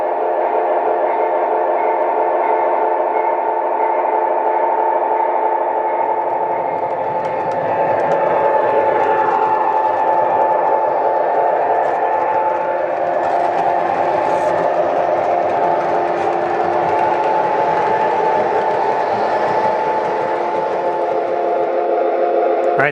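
A model train with a lighted steel caboose runs on 3-rail track, giving a steady loud mechanical hum and rumble with a sustained whistle-like tone throughout.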